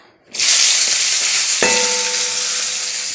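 Black cumin seeds hit hot oil and burst into a loud, bright sizzle after a brief moment of quiet, the hiss holding steady and close with a short metallic ring from the pan midway.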